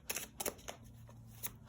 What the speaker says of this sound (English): No, keep shuffling.